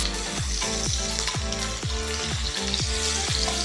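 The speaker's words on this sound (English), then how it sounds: "It's sizzling like crazy." Ribeye for Korean BBQ sizzles loudly in hot, spattering oil, a dense steady hiss with rhythmic pops and crackles close up and no voices.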